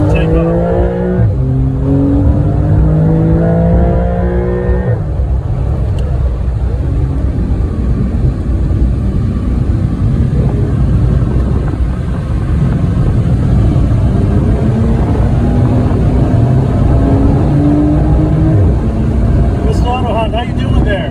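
A Porsche sports car in sport mode revving and accelerating hard at New Hampshire Motor Speedway, its pitch sweeping upward through gears, loud and close with steady road roar throughout.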